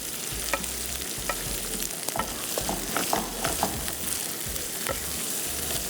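Spice masala with salt and crushed cumin fries and is stirred in a pan, a steady close sizzle with repeated scraping strokes of a spoon throughout, no talking.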